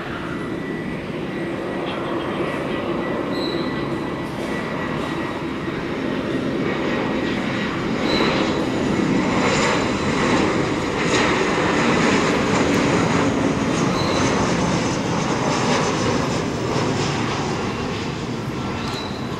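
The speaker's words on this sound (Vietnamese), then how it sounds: "chiếc máy bay cũng đang bước vào hạ cánh và chiếc máy bay thực hiện chặng bay từ Bangkok, Thái Lan về đến sân bay Tân Sơn Nhất" A Vietravel airliner arriving from Bangkok descends to land at Tan Son Nhat airport, its jet engines producing a broad, steady roar heard from a distance that swells slightly midway and holds without a break.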